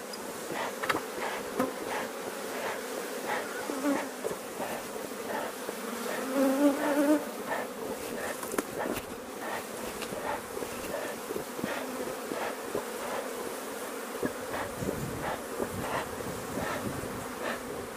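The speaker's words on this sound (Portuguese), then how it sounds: "Agora tentar botar o máximo de abelha pra dentro aqui." Swarm of Apis honeybees buzzing steadily during a hive split, a dense continuous hum of many wings close by, rising and falling slightly with occasional louder passes near the listener.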